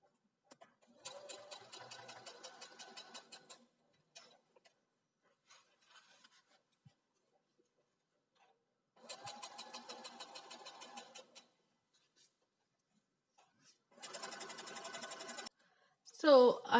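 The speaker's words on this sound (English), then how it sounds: "So I have sewn up the whole length of the waistband" Sewing machine stitching along a skirt waistband in three separate bursts of steady rapid needle chatter with pauses between, close and fairly loud, plus a few soft handling sounds and no speech.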